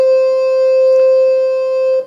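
Piccolo register on a Roland digital accordion: a single bright, steady reed tone held alone for about two seconds, loud and close, with a rich stack of even harmonics.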